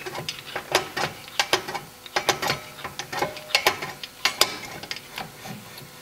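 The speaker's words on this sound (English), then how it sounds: "I'm going to adjust the wheel, adjust the adjuster until it locks up on the brake rotor" The brake adjuster on a Porsche Boxster is turned with a flat blade screwdriver, making close, crisp ratcheting clicks in quick irregular bursts over about six seconds, with no talking.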